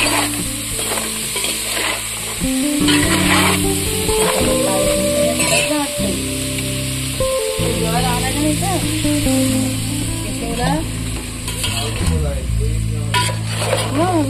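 Fish curry masala sizzles as it is tempered with garlic in a pan in a Konkan village kitchen, with repeated scraping stirs and metallic clinks over a constant loud frying hiss.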